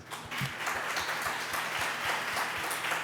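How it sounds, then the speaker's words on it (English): An audience at the close of a day of talks gives a sustained, even round of applause, steady wash of clapping with a few louder claps near the front. "Another round of applause"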